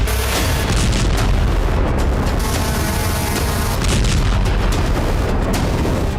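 Explosions from Ukrainian strikes on Russian territory: a dense, continuous rumble of booms and blasts, loud and heavy throughout, with repeated bursts and no talk.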